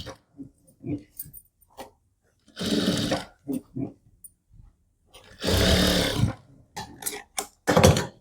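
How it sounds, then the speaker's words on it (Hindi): A household sewing machine stitching a kurti with its stitch length set long, running in two sustained whirring bursts separated by short clicks and handling noises, close to the mic with no talking. "मशीन की चाल बिल्कुल बड़ी करके ये वाली सिलाई लगाएंगे"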